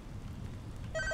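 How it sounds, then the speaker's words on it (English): A phone starts ringing with a bright electronic tone near the end, over a steady background hum, with no talk. "Somebody's calling my phone."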